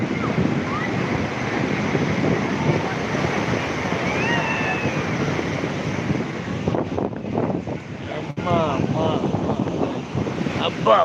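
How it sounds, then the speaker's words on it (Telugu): Big ocean waves crash and roll continuously, a loud surging roar mixed with heavy wind buffeting the microphone, and voices speaking in the middle of it. "రాకాసి అలలు"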